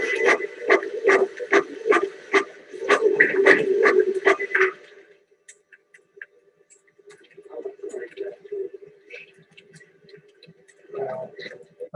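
Office ambience with quick rhythmic tapping like typing in a steady burst, then a quieter stretch of scattered voices talking and light clicks in the room.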